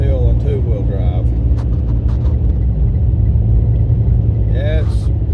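A vehicle on Nitto Terra Grappler G3 tires climbs a hill in about 8 inches of snow in two-wheel drive. A loud, steady engine rumble runs throughout, with people talking over it.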